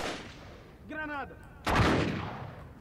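A grenade blast in Uncharted 3: Drake's Deception lands as a loud, sudden broadband boom with a rumbling tail, coming after a short tonal voice-like sound.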